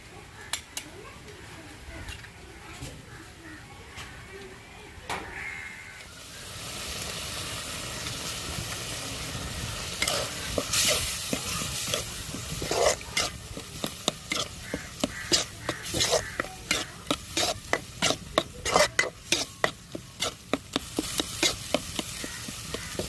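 Egg for a squid gravy is stirred in a frying pan: a quiet start gives way to steady sizzling with rhythmic scraping and clinking of a spatula against the pan, growing busier toward the end.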